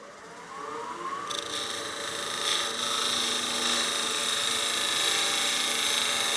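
A wood lathe turning a bat house ornament, with a steady high whine from the spinning work and a tool cutting at dead center, the tone rising and holding throughout.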